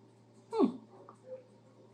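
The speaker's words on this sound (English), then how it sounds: "if you hear a dog in the background, that's our neighbor's dog" A neighbouring dog gives one brief falling whimper, faint and distant against a quiet background hum. A softer trailing sound follows.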